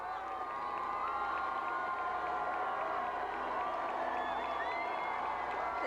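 Large outdoor crowd cheering at the 1992 Toronto Blue Jays World Series parade, a sustained roar of shouts and whistles with some clapping, loud and continuous, with commentary voices over it.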